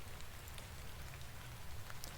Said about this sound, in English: But a bit of rain won't kill us, will it?